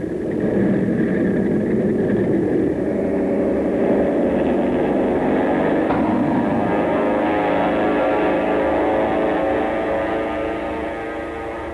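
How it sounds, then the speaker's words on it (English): A loud, sustained aircraft engine roar with a heavy rumble as a World War II carrier plane is launched by catapult, building and holding steady before easing off slightly at the end. "a catapult was used to push the planes into the air"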